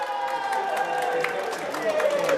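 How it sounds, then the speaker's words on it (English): A crowd at a Sunderland election count cheers and claps in a sustained, busy roar, with voices mixed into the noise. "We can hear a big cheer down there where the Liberal Democrats have just gained a seat from Labour in a ward here"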